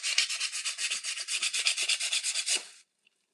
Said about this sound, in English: So that's the reason why I'm sanding it.